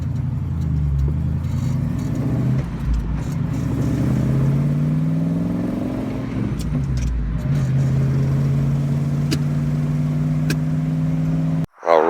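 A Falcon car drives along with its engine rising and falling through gears as it accelerates, heard from inside the cabin as a steady mid-pitched drone with some clatter and no talking.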